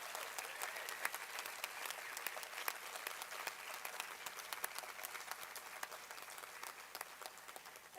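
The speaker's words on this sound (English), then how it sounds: "let's give a round of applause for them as well" Applause at an annual grant award night, a steady, dense crowd clapping sustained for several seconds, heard from within the room.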